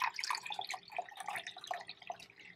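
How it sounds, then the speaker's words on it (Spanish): Hibiscus water trickles and drips through a strainer in a quick, continuous patter of small splashes, close by and fairly quiet. "Voy a colarlo todo para que no se le vayan las flores."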